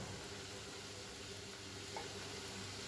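Oyster mushrooms sauté in a pan with dark soy sauce and chili vinegar stirred in, giving a soft, steady sizzle with faint stirring scrapes, quiet and close, with no voices.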